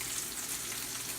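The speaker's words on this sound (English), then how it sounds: "now we're gonna flip our cutletas" Russian cutlets (kotleta) sizzle in a frying pan with a steady, dense hiss that holds evenly throughout the brief moment, close and alone.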